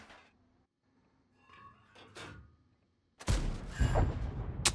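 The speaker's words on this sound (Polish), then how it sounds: "Próbuję jakoś na dojeździe im tutaj wsadzić te kilka strzałów" Tank cannon fire in the video game World of Tanks from a light tank, a loud burst of blasts and rumble after a quiet stretch with faint game sounds.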